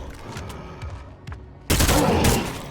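Rapid gunfire in the zombie-survival video game State of Decay 2, a loud sudden burst of overlapping shots that starts partway through after a quieter stretch of scattered game sounds.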